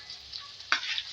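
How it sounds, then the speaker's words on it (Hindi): Chopped chillies frying in a pan for a winter mixed vegetable dish, a steady close sizzle with a sharp burst of hissing partway through and no voices. "इसके अंदर मिर्च ऐड करेंगे कटी हुई, उसको भी करेंगे फ्राई"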